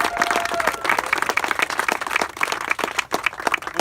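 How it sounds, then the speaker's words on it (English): Steady, close applause from a press conference audience, a dense patter of many hands clapping throughout with no pause. "So I think we owe them a big round of applause for everything that they've done."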